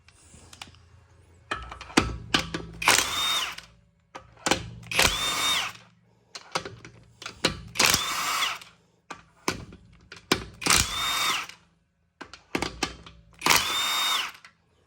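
A power tool removes the wheel nuts on a Mercedes SL R230, with five loud bursts of rattling impact driving spaced a couple of seconds apart and quieter clicks and handling noises between them.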